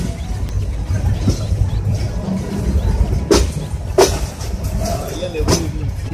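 A passenger train rolls slowly on a rough stretch of track near Srimangal, giving a steady rumble with several sharp metallic clanks and rattles from the carriages.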